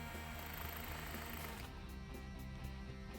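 Step drill bit boring out the steel cable end of a 12,000 lb winch cable, a loud steady whirring grind with a continuous motor drone, close and unbroken.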